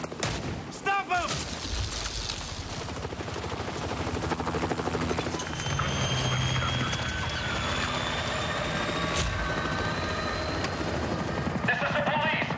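Police helicopter in Battlefield Hardline, a loud steady rotor roar running throughout, layered with gunfire bursts and a rising whine, alone without clear speech.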